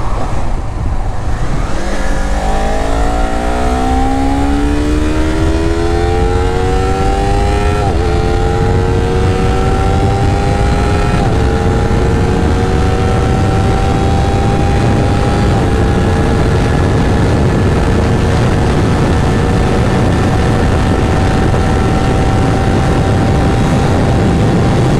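A Honda CBR250RR motorcycle accelerates hard through the gears toward top speed, its high-revving engine climbing in pitch with brief drops at each shift, then holding a loud steady drone under heavy wind roar.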